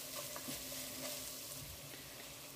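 Tomatoes sizzling steadily in a pan with turmeric for chicken biryani, a soft continuous frying hiss with faint stirring scrapes, fairly quiet and alone.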